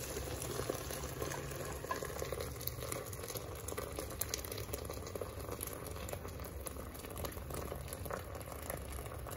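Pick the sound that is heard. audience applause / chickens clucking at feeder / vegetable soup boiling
vegetable soup boiling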